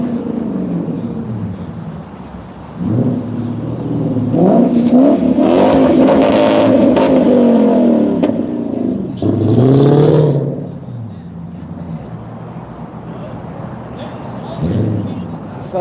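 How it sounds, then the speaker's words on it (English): A clapped-out Lexus with a loud aftermarket exhaust revs in two rising surges at a street protest in Portland, Oregon, close by, with people talking over and around it. "So that's a cool exhaust on that clapped out Lexus."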